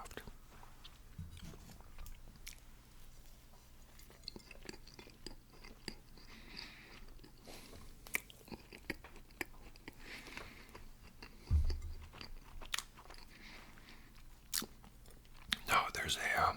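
Soft Twinkie snack cakes being bitten and chewed close to the mic, with quiet moist mouth sounds and a few sharper bites, while a person whispers intermittently throughout.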